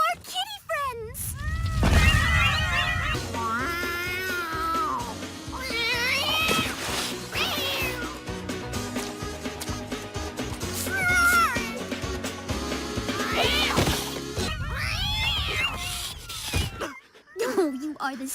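Cartoon cats meow and caterwaul in a busy cartoon soundtrack, several high wavering cries rising over music and a voice, loud and close, with the mewing recurring throughout before a short quiet gap near the end.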